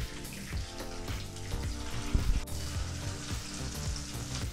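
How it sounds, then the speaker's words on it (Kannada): Coarsely ground raw mango paste frying in hot cold-pressed oil with curry leaves in a pan, a steady close sizzle without speech. "ಮಿಕ್ಸಿ ಜಾರಲ್ಲಿ ತರತರಿಯಾಗಿ ರುಬ್ಬಿದಂಥ ಮಾವಿನಕಾಯಿ ಪೇಸ್ಟನ್ನು ಹಾಕ್ಕೊಳ್ತಾ"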